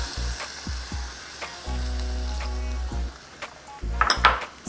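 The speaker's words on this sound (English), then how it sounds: "you're going to add in about 1 cup of heavy whipping cream" Heavy whipping cream poured into a hot pan for a loaded chicken baked potato filling, sizzling and frying loudly, with short clinks of a utensil against the pan and a steady hiss between stirs.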